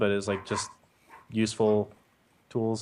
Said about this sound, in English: Sorry about the dogs if you guys hear them